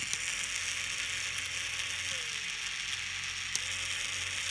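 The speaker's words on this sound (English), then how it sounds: "The disco motor spins, and although it may be hard to see because of the bright lights, it spins pretty slowly." A small Snap Circuits disco motor whirs at a faint, steady level, with a tone that glides in pitch as its speed changes and a couple of brief clicks.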